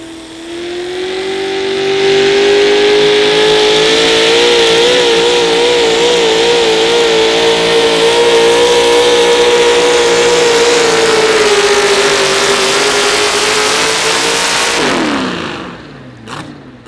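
A modified 4x4 truck's engine roars at a sustained high rev during a truck pull in Wisner, Nebraska, loud and steady for about fourteen seconds with a slight rising pitch before cutting off abruptly.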